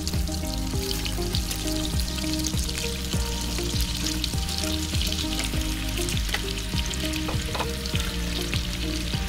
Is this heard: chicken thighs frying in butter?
yes